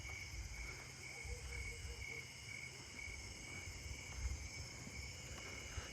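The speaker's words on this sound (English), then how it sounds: "There are just snowy tree crickets everywhere" Snowy tree crickets chirp steadily and densely in a narrow strip of forest, a continuous pulsing trill from many insects that runs unbroken through the whole stretch with no voices.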